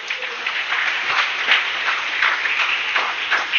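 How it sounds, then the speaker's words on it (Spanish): A church congregation breaks into warm applause during a service, many hands clapping in a lively, uneven patter that swells and pulses for several seconds. "Démosle un aplauso al Señor Jesús."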